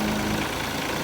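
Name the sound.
FINN B70 straw blower engine starting and idling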